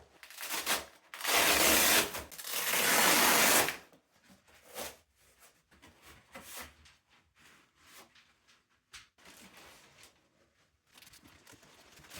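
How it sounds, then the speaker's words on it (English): Velcro strap being pulled open on laser cutter packaging, a loud rasping rip lasting about two seconds near the start, followed by quieter rustling and handling noises. "Oh, it's Velcro!"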